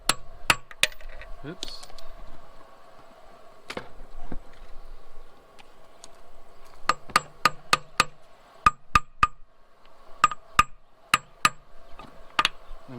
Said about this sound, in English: I need to tap that on.